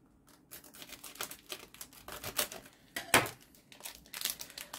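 Scissors cut open a mail package of trading cards, giving a close, quiet series of irregular snips along with crinkling and tearing of plastic and paper, with one sharper crackle partway through.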